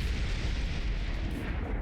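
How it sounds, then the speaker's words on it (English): Long-range plasma cannons fire in the real-time strategy game Beyond All Reason, giving a steady, dense rumble of distant booms and blasts with no talking. "this area up top is being targeted by those long-range plasma cannons right now"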